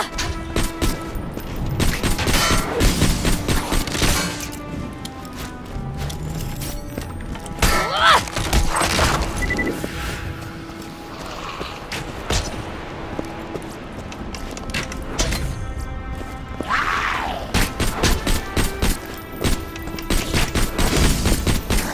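A skeleton horde opens fire in the video game Tiny Tina's Assault on Dragon Keep, rapid clattering bursts of shots and impacts that surge and fade repeatedly over a busy game soundscape.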